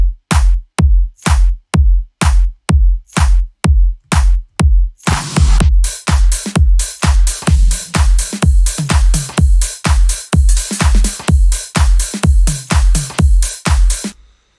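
Electronic dance drums for a track's drop: a deep, punchy kick pounds steadily on its own, then snares, claps and hi-hats join in a dense, powerful groove, loud and up front, with no voice.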